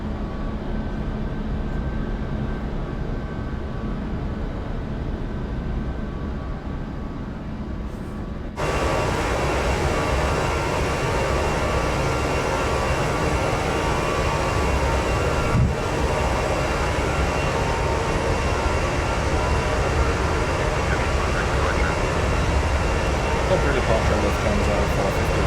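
Airliner jet engines of an iniBuilds A340-300 in a flight simulator, a steady broadband roar that jumps louder partway through and holds, with a voice talking over it.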